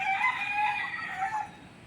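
A rooster crows once, a long drawn-out call that fades at the end, fairly close and clear.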